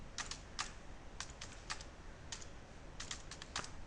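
Keystrokes on a computer keyboard while entering a command on a Windows Server, arriving in short quick bursts with brief pauses between them. The typing is close and crisp over a steady low background hiss.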